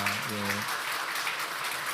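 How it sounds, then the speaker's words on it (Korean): Church congregation clapping in welcome for a visiting accompanist during a Sunday service, a fairly full burst of applause following the last held organ or keyboard notes. "환영하는 박수 한번 하면 좋겠습니다."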